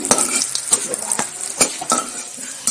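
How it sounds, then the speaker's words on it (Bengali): Chicken sizzles in a frying pan while a utensil stirs and scrapes it, with several sharp clinks and knocks against the pan over a steady frying hiss. "চিকেনটা ভাজা তো ওইটা হয়ে গেল"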